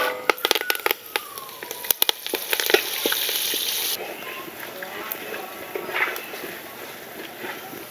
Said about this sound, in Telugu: నూనె కొంచెం వేడెక్కిన తర్వాత 1 చెంచా ఆవాలు, 1 చెంచా జీలకర్ర, 2 చెంచాలు సాయమినపప్పు, 2 చెంచాలు పచ్చెనపప్పు, 4-5 ఎండుమిర్చి ముక్కలండి, కరివేపాకు, ఎల్లుల్లిపాయ గుడ్లు.